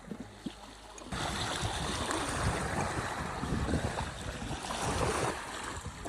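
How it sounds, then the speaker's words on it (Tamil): Sea waves washing onto a beach, a broad steady rush of surf that swells in after a quieter start and holds fairly close, with some wind noise. "ஓகே கைஸ், கடலுக்கு வந்தாச்சு."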